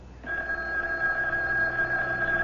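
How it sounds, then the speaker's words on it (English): A telephone rings with one long, steady, buzzing tone that starts abruptly and holds at an even, fairly loud level. "don't you answer the phone?"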